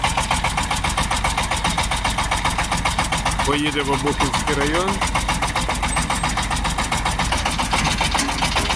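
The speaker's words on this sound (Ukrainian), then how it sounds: "Трактор на 35 кінських сил." A 35-horsepower Shifeng 354 four-wheel-drive compact tractor engine idles steadily with a fast, even chugging rhythm, loud and close, while a person talks briefly over it.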